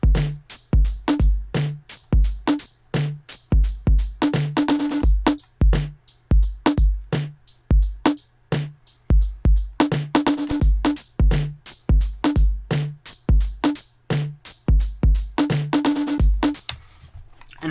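Electronic drum group run through Ableton's Drum Buss effect: a punchy, steady beat with booming kicks and crisp, bright hats and snares, loud, close and continuous, ending with a brief tail.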